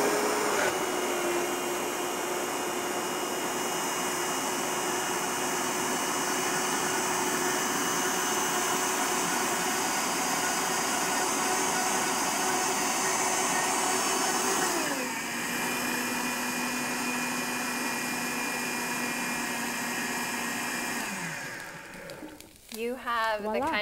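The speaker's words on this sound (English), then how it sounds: "You just blend this up. And I have a high-speed blender, so it's pretty strong." A high-speed blender whirs steadily as it purées tofu, running loud and continuous, with its pitch dropping partway through before the motor winds down near the end.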